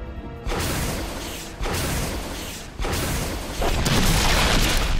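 Heavy gunshots in Resident Evil Remastered: four loud, booming blasts come at roughly one-second intervals, each sustaining a thick rumble into the next, with no talking.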